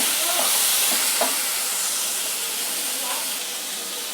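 Beans sizzle steadily in a hot pan with a constant bright frying hiss, close and loud, with a few faint stirring scrapes.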